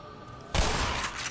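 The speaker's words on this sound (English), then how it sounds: "the Glock is, I think it's the only weapon that fires underwater" A Glock pistol fires underwater in the video game Black Mesa. After a quiet start, a sudden muffled burst of noise holds steady for the rest of the moment.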